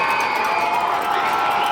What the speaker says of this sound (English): This crowd is getting loud in here tonight.